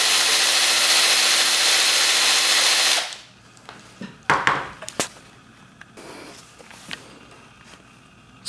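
A DeWalt power drill bores through a board with plywood underneath, running loud and steady for about three seconds before stopping, followed by a few light knocks and handling clatter.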